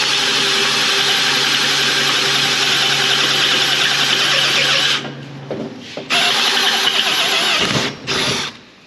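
A step drill bit bores through metal during ATV lift table fabrication, a steady loud power-drill whine that cuts out near the end, followed by brief bursts and pauses as the bit breaks through.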